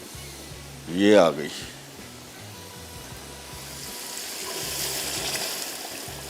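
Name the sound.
pouring yakhni stock into rice for pulao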